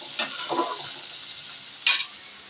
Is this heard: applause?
no